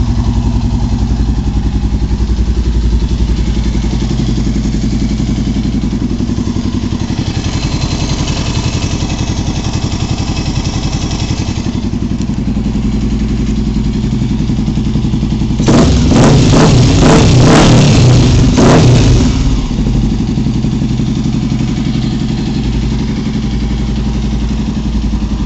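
A Honda XLX 350R motorcycle with an aluminium exhaust idles close by in a loud, steady, thumping rumble, with a short rattling rise in revs partway through before it settles back to idle.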